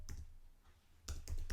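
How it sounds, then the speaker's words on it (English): Computer keyboard typing heard close up, a few quick, light key clicks at the start and then another cluster after a short pause, quiet and with no talking. "and I'm typing purposely with a few"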